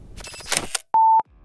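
A single steady electronic beep, about a quarter second long, sounds clearly right after a brief burst of mechanical clicking.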